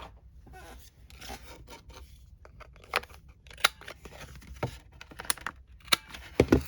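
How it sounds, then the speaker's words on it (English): Scissors snip through paper to round the corners of a handmade paper wallet, producing a quick series of quiet, close, irregular cuts and rasping slices with no talking. "You can do this with your scissors."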